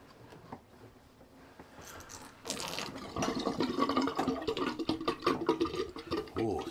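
Water gurgles and rushes down a drain, starting quietly and swelling into a louder, bubbling flow with sloshing.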